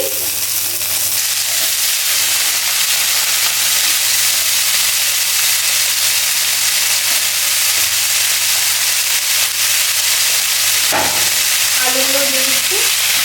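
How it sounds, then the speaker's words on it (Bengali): Cauliflower florets go into oil already hot in a wok, raising a loud, steady sizzle and hiss close up that lasts throughout, with a brief clatter near the end. "তো আমি ফুলকপিগুলো দিয়ে দিচ্ছি"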